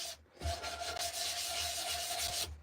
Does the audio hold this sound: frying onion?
no